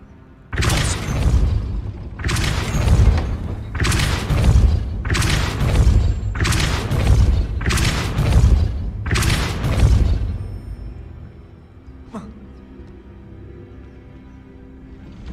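Repeated Confringo blast spells in the video game Hogwarts Legacy, about seven rhythmic booming explosions in quick succession, each a heavy thump with crackling tail, then fading to quiet ambience with a faint click.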